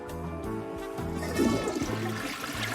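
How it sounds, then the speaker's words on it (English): A toilet flushes in a steady, rushing wash of water that fills the whole stretch, close and fairly loud, with no talking over it. "Oh yeah, that's a good flush."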